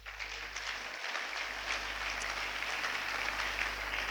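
A church congregation applauding to acclaim Jesus, a steady, soft wash of clapping throughout, distant and even, over a low hum.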